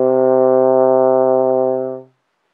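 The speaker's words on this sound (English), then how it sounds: "and C sounds like this." One steady trombone note, C played in sixth position, held for about two seconds with a full brassy timbre, then fading out; close, solo, no voices.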